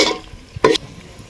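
Mint and green chilli paste is stirred and fried in hot oil in a pan, a soft sizzle broken by a sharp scraping stir stroke near the middle, no voices present.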